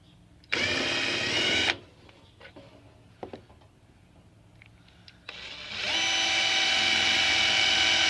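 A power drill bores into the sheet metal of a horizontal bandsaw, right on a fold: two loud bursts of steady whirring, a short one near the start and a longer one at the end, with clatter and handling noise between.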